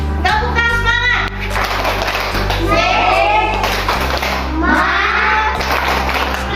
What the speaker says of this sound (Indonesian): Oke, kita tepuk tangan semangat.